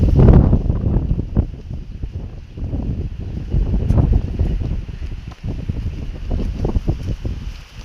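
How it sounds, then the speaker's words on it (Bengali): Strong wind gusts through a village on an overcast day before rain, buffeting the microphone in loud, uneven rumbling surges that swell and fade throughout. "এত জোরে হাওয়া বইছে।"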